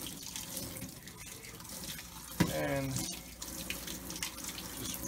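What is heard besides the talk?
water tap running while rinsing running shoe laces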